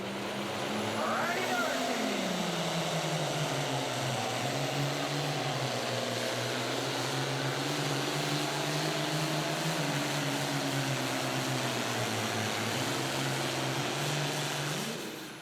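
An International super farm tractor, Positive Ground, roars through a 2014 pull in Hillsboro, Wisconsin: one loud, sustained engine note whose pitch climbs, dips and wavers throughout without a break.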